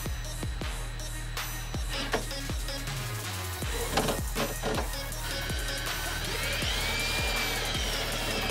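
A power drill whirs in short bursts drilling holes in a Jeep JKU hood for a snorkel install, with sharp clicks and knocks between runs and a rising high whine near the end.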